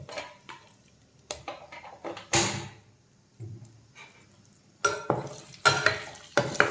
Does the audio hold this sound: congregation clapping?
no